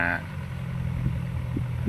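Steady diesel engine of a Komatsu PC210-10MO hydraulic excavator, a low, even idle-to-working hum throughout with a couple of faint mid-pitched hydraulic whines near the end.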